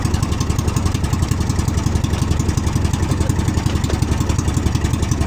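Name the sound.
boat engine running, misfiring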